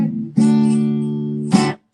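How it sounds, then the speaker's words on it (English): A dominant cadence is played as two sustained chords, the first held clearly for over a second, then a second chord struck briefly before the sound cuts off into silence. "Dominant cadence sounds like this."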